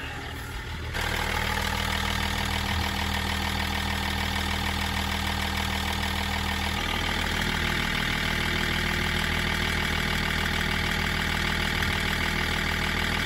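A Range Rover L322 TD6 diesel engine with a failed alternator starts up after a second, then idles with a steady, even rumble close to the listener for the rest of the clip.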